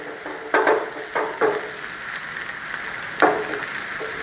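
Egg bhurji sizzles and fries in a pan, a steady crackling hiss broken by several louder bursts as it is stirred.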